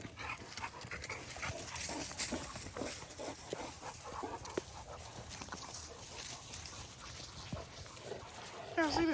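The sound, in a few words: dog whimpering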